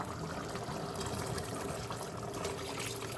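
Coconut milk is poured in a steady, soft trickle for a few seconds, faint and unbroken.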